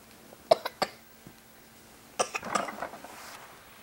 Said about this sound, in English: What's going on there? You coughing?